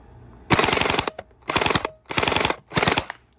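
A Spatrball SRB 400 gel blaster fires on full auto in four rapid bursts, each a fast, sharp mechanical rattle lasting about half a second, loud and close with brief pauses between.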